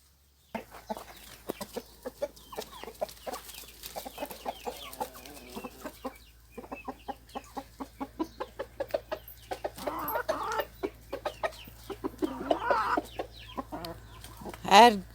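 Village chickens cluck steadily in short, repeated bursts over a low background hum, with a louder squawk near the end.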